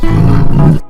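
A tiger gives a single loud, close roar lasting most of a second, then cuts off abruptly into silence.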